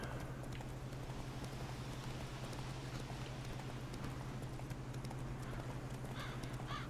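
Horse hooves clip-clop steadily in The Witcher 3: Wild Hunt, with a faint, even rhythm over a constant low hum and no talking.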